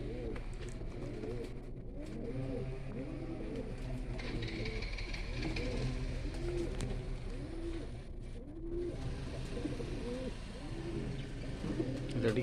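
Pigeons in a covered dovecote cooing repeatedly in overlapping soft, throaty rolling calls close by, over a low steady background rumble with no talking.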